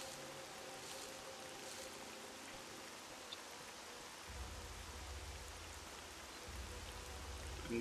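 Steady rain from the video game S.T.A.L.K.E.R. Call of Pripyat hisses continuously across the whole stretch, broadband and even, with a low rumble joining partway through; no voices.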